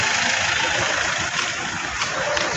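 A motorcycle engine runs steadily at close range, a continuous mid-pitched rumble with slight vibration and no pauses.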